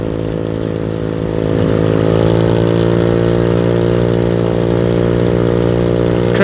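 A Venom X18 motorcycle engine runs steadily with a loud, buzzing hum. It rises slightly in pitch and load after a couple of seconds, then holds a constant drone, close up, with no voices.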